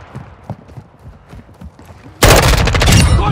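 Gunfire in the video game Call of Duty Modern Warfare 2: scattered thumps and distant shots at first, then a sudden loud, sustained burst of rapid automatic fire that fills the last second.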